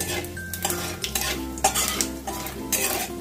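Whole spices (cloves, cinnamon, green cardamom and cumin seeds) fry in hot oil for a tempering, with a soft sizzle beneath repeated clinks and scrapes of a metal spoon stirring against the pan, close and fairly quiet.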